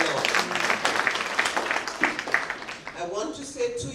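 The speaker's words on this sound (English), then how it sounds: "give a hand clap to the Lord." A church congregation claps hands together in a lively, uneven burst of applause, with voices mixed in and the clapping fading toward the end as speech resumes.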